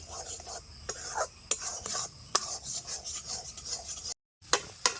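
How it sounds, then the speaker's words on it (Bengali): A spoon scrapes and rubs through thick sago filling in a pan for sabudana laddu, a series of close, rhythmic scraping strokes with a brief silent gap near the end. "আমি এইভাবে পুরটা নাড়তে থাকবো"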